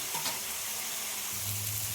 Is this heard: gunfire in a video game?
no